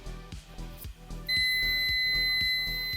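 Multimeter on continuity test checking a Ford bonnet switch; a steady high-pitched tone switches on partway through and holds continuously, after some faint rhythmic clicking and handling sounds.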